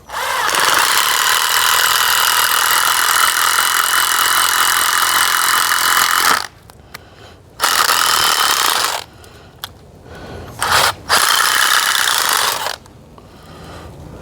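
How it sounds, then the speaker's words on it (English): A loud power drill whirs steadily for several seconds while boring upward about two inches into a maple tree trunk, then cuts in and out in short bursts with quiet gaps between. "we're going to drill in at an upward angle."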